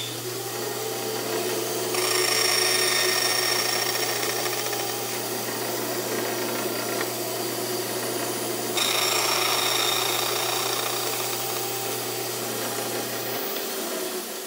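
A power tool cuts a dovetail in cherry wood, a steady broadband rasping roar that runs continuously and grows louder at two points, with a constant low hum beneath it. No one speaks.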